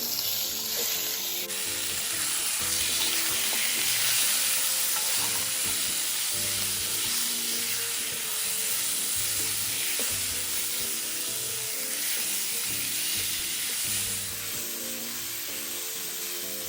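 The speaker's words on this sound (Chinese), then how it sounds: "炒至姜葱蒜已出香气后，再将排骨倒入，一起拌炒" Pork ribs stir-fried in a hot wok with shallots, garlic and sliced ginger give a loud, steady sizzle with a scraping, stirring rhythm that runs unbroken throughout.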